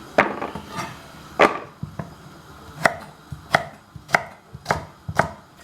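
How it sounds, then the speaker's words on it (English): A knife slicing through soft Brussels sprouts on a board, about eight distinct close chopping thuds with crisp cuts at uneven intervals, loud and clear with no voices. "My sprouts are soft, as you can see. Knife's going through them nicely."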